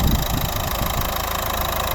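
A 2011 Nissan Qashqai 1.5 dCi diesel engine idles steadily and quietly, a smooth low rumble with no talking.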